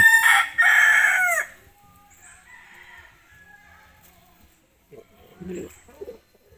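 A fighting rooster crows loudly up close, then quieter bird calls and clucking follow, with a brief murmur of voices near the end.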